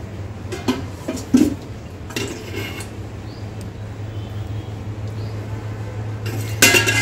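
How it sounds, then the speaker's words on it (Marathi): A cooking pot is handled on a kitchen counter while preparing a drumstick curry, giving a few sharp metallic clinks and knocks early on and again at the end over a steady low hum. "इथे मी एक पातेलं घेतलेलं आहे. यामध्ये आपण तेल टाकून द्यायचं आहे."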